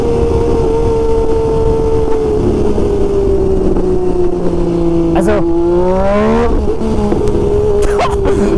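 A motorcycle engine revs as the throttle is twisted, a loud, close, steady drone that sags in pitch then climbs sharply in a couple of quick blips, with people talking over it.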